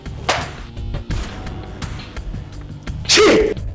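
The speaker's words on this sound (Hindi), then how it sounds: "ये वही छींक है" A single loud sneeze in a courtroom drama scene, sharp and close near the end, following a few duller knocks and thumps in a quiet room.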